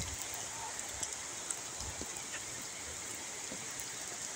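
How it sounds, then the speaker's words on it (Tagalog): Strong floodwater current rushing past, a steady broadband roar with faint splashes, continuous and moderately distant. "Kusog kayong current."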